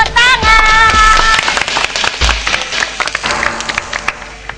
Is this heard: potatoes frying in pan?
no